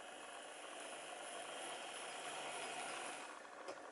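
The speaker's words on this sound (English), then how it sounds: "So you have a slightly different noise from the loco." Motor of an HO scale SNCF 231H model locomotive running under a DCC decoder, a faint, steady whirring rattle held continuously at low level.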